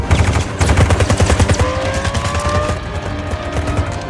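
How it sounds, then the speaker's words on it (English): Rapid automatic gunfire rips in loud, dense bursts at an orange Lamborghini during a Fast and Furious movie scene. Engine roar and a rising whine come in partway through, with no speech over the shooting. "Why are they shooting at me?"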